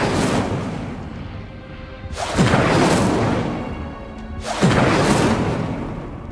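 Two loud fiery blasts of the Incendio fire spell in the Hogwarts Legacy video game, each a sudden whooshing burst that roars and slowly fades, spaced a few seconds apart with no talk.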